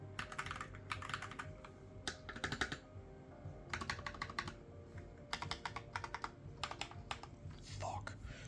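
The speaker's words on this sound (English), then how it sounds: "so yeah, that's a pretty good freaking keyboard. I love this keyboard." Mechanical keyboard fitted with Holy Panda switches, typed on in bursts of rapid, crisp clacks with short pauses between runs, close and clear over a low room hum.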